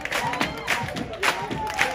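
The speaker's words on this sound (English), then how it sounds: "Everybody clap your hands" A concert crowd claps their hands in rhythm, with sharp, regularly spaced claps about every half second over music and voices.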